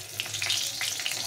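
A dried red chilli sizzling in hot mustard oil in a pan, a close, steady crackle with small popping spurts.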